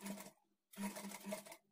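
A sewing machine stitches the shoulder seam of a lining blouse in two close, rapid whirring bursts separated by a brief pause, with no talk over it.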